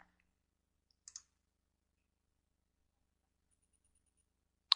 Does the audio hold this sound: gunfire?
no